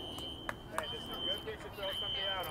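A high school fire alarm sounds in the background as a steady, high electronic tone, faint and distant under crowd noise and clicks.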